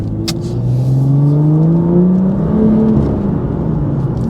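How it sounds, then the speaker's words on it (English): A BMW M2 engine drones steadily close by, its pitch sweeping up in quick revs as throttle blips accompany downshifts, with a constant mechanical whir. "the moment you blip it, you drop a gear, it blips and it sounds"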